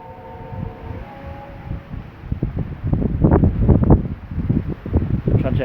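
Strong wind blows outdoors on open moorland, buffeting the microphone in loud irregular gusts that build and roar, preceded by a brief steady faint tone near the start.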